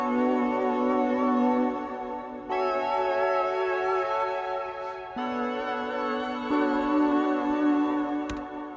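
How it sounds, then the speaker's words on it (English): Sustained Zebralette synthesizer chords with a buzzy, vintage tone, held for a few seconds each before shifting to the next chord, with no voices. "the first sound that we're going to be looking at is a synth from Zebralet"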